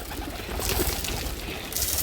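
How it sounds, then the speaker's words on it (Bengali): Pigeons of a local Bengali breed coo softly and steadily while feeding on whole chickpeas, a low, continuous murmur at close range with faint pecking and rustling. "দেখুন আমার কবুতরগুলো প্রচুর কিন্তু গোটা বুট পছন্দ করে"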